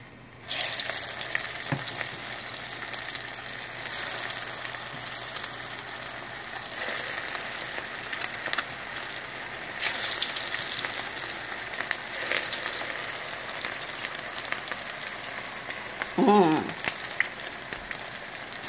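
Salt cod fritters (accras) fry in very hot oil, a continuous dense sizzle and crackle heard up close for the whole stretch, with a few faint utensil taps and no speech.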